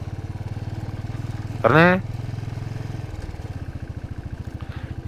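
Motorcycle engine idling with a steady low pulsing throb on a Himalayan mountain road near Ulley village. A voice calls out briefly partway through, and the engine chugs on evenly beneath him.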